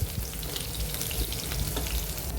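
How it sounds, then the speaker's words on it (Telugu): Chopped garlic sizzles in hot oil in a pan, cooked until it just changes colour. The steady, close frying hiss runs without a break, with no voices. "వెల్లుల్లి కాస్త కలర్ చేంజ్ వచ్చేంత వరకు వేయించుకుందాం"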